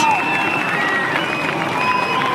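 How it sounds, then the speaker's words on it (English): A stadium crowd at a women's football semi-final cheers and applauds loudly, a dense, sustained roar with whistles and shouts throughout and no break. "the crowd is going absolutely wild for this"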